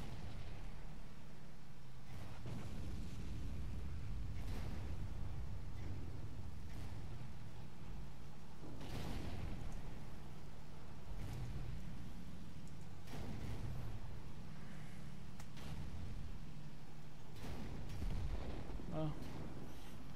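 Tank cannon fire in a World War II tank video game, with several heavy booming shots at irregular intervals over a steady engine rumble.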